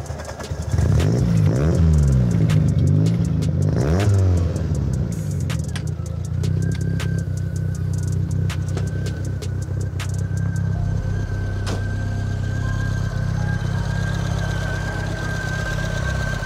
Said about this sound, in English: Can you just start it up for us, please, Shane?